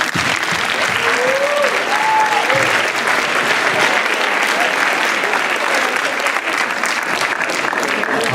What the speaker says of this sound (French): félicitations et vous pouvez vous applaudir